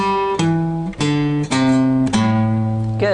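An electric guitar plays a riff as a sequence of separate sustained notes, each plucked cleanly and ringing out in a slow, deliberate pattern, played alone.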